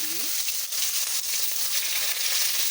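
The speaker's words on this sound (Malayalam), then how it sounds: "കടുക് പൊട്ടി വരുമ്പോൾ അതിലേക്ക് ഉള്ളി," Onion tossed into hot oil and ghee with popping mustard seeds, giving a steady, close, loud sizzle and crackle that runs the whole time with no talking.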